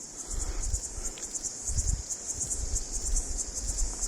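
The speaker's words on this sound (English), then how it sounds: "I think it's a cicada." Cicada chirping outdoors on a remote camping trip, a continuous high buzzing drone that pulses rapidly and evenly, fairly close and clear with no voices.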